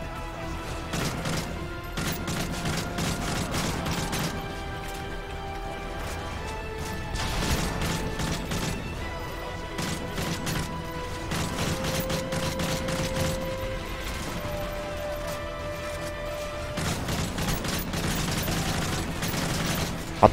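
Gunfire in the shooter Call of Duty: Modern Warfare 3: repeated sharp shots and bursts crack over sustained background music, with occasional heavier impacts throughout.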